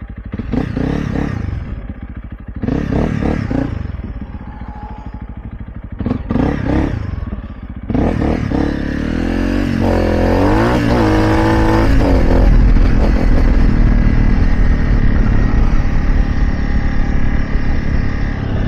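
Honda CRF 300 Rally motorcycle being ridden, engine revving in bursts then a sustained loud drone with clattering, close and dominant, no talk.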